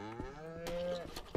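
A cow in the farming game Ranch Simulator gives a single drawn-out, tonal moo, clear and fairly close, heard alone with no talk over it.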